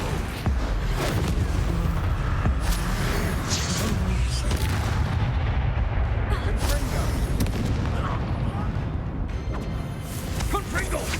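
Confringo blasting spells explode in Hogwarts Legacy combat, dense booms and crashes layered over a constant roar of battle noise and music, with voices shouting in the mix.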